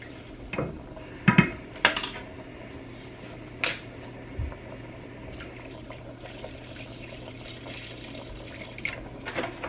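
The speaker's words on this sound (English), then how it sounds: "I'm just going to start adding my milk in. And just start stirring all this flour in there." Flour and milk being stirred together in a pan for a home-cooked budget meal, with scattered clinks of a utensil against the pan over a steady low kitchen hum, close and moderately quiet, no talking.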